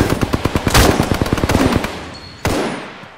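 Rapid bursts of automatic gunfire in the Apex Legends video game, a fast rhythmic stream of sharp loud shots that stops briefly before another blast erupts near the end.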